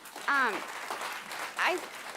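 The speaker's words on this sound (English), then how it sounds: "Round of applause for that." Audience at a Climate Week NYC panel conversation hosted by Food Tank breaks into a short burst of applause with a couple of rising whoops and cheers, swelling twice over a couple of seconds.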